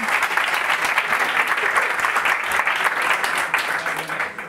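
Steady applause from an audience at a talk, even dense clapping at moderate level throughout with no talk over it.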